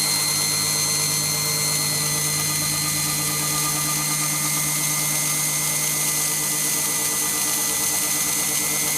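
A steady, continuous grinding whir of a power sanding tool removing carbon from an engine valve of a 1972 Volkswagen Beetle 1200, running without pause, fairly loud and even throughout, with no talking.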